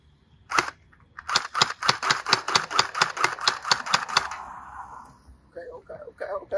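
SplatRball gel blaster toy guns firing outdoors in a neighborhood, a rapid string of about a dozen sharp snapping shots in quick rhythm, followed by voices talking.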